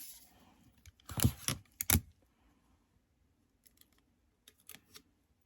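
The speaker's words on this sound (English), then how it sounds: "And then I'm just folding it inside there." Sublimation paper taped around a tumbler is folded down and tucked in, giving two sharp bursts of crisp crinkling up close, then sparse faint rustles and taps.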